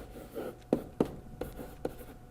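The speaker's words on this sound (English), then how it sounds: "I'm going to put up my special triangles again. I always write them at the top of my page." Pen or pencil marks on paper while jotting special-angle triangles for trigonometry, heard as four sharp, close taps or strokes spaced about half a second apart over a quiet room.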